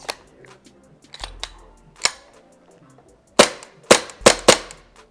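An ASG CZ SP-01 Shadow airsoft pistol firing, sharp snappy cracks spaced irregularly, a few early single shots and then a quicker cluster of four or five close, loud pops.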